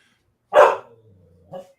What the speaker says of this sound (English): I'm sick of your barking